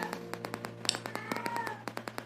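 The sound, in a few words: cat in heat yowling in background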